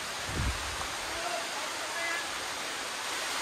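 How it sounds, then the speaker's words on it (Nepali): Heavy rain pours steadily in a jungle in Malaysia, a dense, even hiss throughout, with a brief low thump near the start and faint voices in the background. "लास्टै ठुलो पानी आयो यार"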